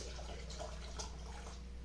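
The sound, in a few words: tomato juice being poured into canning jars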